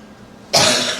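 A single sudden cough from a person with bronchitis bursts out loud and close after a quiet moment, then trails off.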